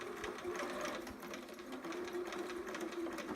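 A sewing machine stitches a romper, running continuously with a steady mechanical whir and needle chatter, near and moderately quiet.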